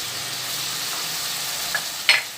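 Turmeric, pomegranate seed, salt and red chilli frying in a pan for achari bhindi, a steady loud hissing sizzle throughout, with a couple of sharp spoon scrapes near the end and no talking.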